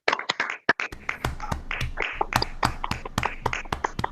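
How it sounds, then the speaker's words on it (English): Scattered, uneven claps from online meeting participants unmuting to welcome guests at a Toastmasters club session, individual hand claps arriving irregularly and close to the microphones, with no steady crowd roar. "Let us unmute and welcome each of our guests with a good round of applause"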